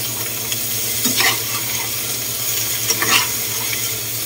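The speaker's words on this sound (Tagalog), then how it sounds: "Medyo igigisa lang natin ng konti." Ingredients for embutido, including hotdog, sautéed in a pan with steady loud sizzling and frying, broken by a couple of stirring scrapes of a utensil against the pan.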